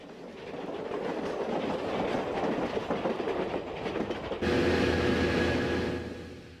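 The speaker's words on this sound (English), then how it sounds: "the world's most beautiful passenger train" The Southern Pacific Daylight passenger train rumbles steadily past nearby with rhythmic clickety-clack of wheels on rails, growing louder and brighter toward the end before easing off.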